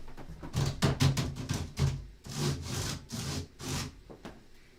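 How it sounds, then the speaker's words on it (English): Aluminum chiclet-style keys on an X-Keys keyboard being struck, a sequence of close, dry clacks and scraping rubs arriving in uneven bursts, moderately quiet with no talking. "and when you hit the key it always goes clack"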